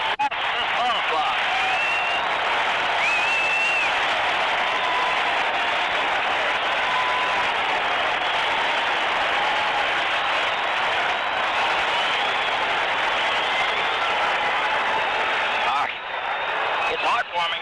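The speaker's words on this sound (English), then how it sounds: "this crowd loves this ball club" Steady, dense roar of a Boston basketball crowd at a 1979 NBA home game against Cleveland, a continuous wash of cheering and applause that holds loud and unbroken for the whole stretch before dipping briefly near the end.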